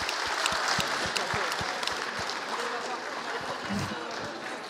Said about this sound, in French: on peut l'applaudir, bravo